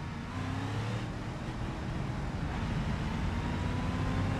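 Front-wheel-drive van engine in BeamNG.Drive, a steady droning hum holding at a constant level for the whole stretch, with no talking over it.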